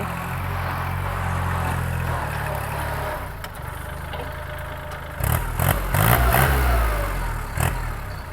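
A used 2011 Kubota L3608 tractor with a diesel engine running close by, a steady loud idle throughout with a few sharper knocks and bumps near the end.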